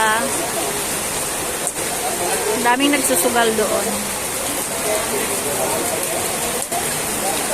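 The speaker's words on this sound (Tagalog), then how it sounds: "Amiga, umulan sa Angeles." Heavy rain pours down steadily in Angeles, a dense continuous hiss of falling water that runs throughout as people talk over it nearby.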